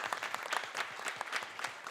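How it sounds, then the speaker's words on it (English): Audience applause after closing thanks at a talk on UN peacekeeping in Africa, a steady patter of many hands clapping close by throughout, with no voices over it. "I think we need to give us all a big clap."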